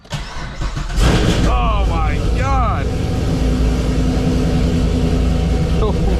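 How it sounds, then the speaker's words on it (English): A cammed fifth-generation Chevrolet Camaro Z/28 V8 cranks and fires about a second in, then holds a loud, lumpy idle rumble right up close inside the car, with a voice exclaiming over it. "my oh my, is this car loud"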